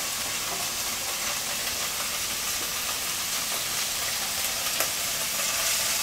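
Large Costco eggs frying in rendered bacon fat in a pan, giving a steady, close, dense sizzle and hiss that runs evenly throughout with no talk over it.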